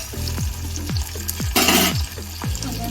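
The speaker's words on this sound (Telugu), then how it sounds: "కరివేపాకు, ఆనియన్స్, పచ్చిమిర్చి అన్నీ వేసుకున్న తర్వాత ఒకసారి కలుపుకుందాం." Onions, curry leaves and green chillies sizzle steadily in a hot pan while a spoon stirs them, with repeated scraping strokes and a brief louder burst of frying midway.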